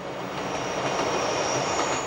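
The Glacier Express on a Swiss mountain railway, a steady close rumble of wheels on rail with a faint high whine, continuous and loud, no voices.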